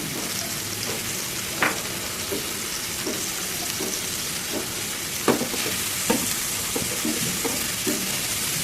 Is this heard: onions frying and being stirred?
yes